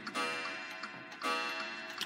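A Waterbury triple-decker chiming clock, an eight-day American clock from around the 1910s–1920s, ticks up close in two bright strikes with ringing metallic overtones, alone and without talk.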